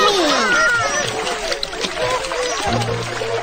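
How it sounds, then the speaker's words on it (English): Cartoon splash as a character falls into water, a burst of wet spatter and sloshing mixed with voices and tonal sounds, fairly loud and busy throughout. "Oh no! I'm falling down into the water!"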